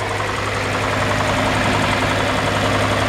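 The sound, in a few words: 1964 Ford F350 six-cylinder engine idling with solid lifters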